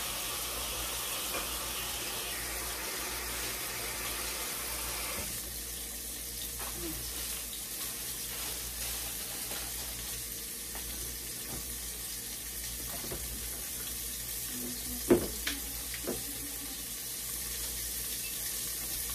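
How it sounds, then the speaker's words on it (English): Tap water runs steadily into a kitchen sink while hands are washed between cooking steps for a smothered cubed steak dinner, a continuous hiss with a few brief clatters near the end. "Let me wash my hands here"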